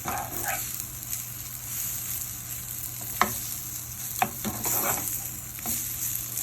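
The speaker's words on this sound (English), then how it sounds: "Let's cook for about a minute more." Portabella mushrooms sautéing in a pan give a soft, steady sizzle with a few sharp clicks of a utensil against the pan, heard alone at close range.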